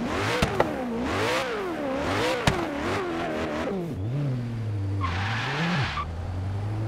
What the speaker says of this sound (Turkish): Arabanın sesini ve hızını hep beraber izliyoruz.